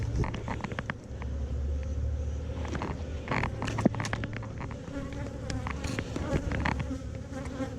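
Dense, continuous buzzing of many honeybees close by, a steady hum with individual bees zipping past.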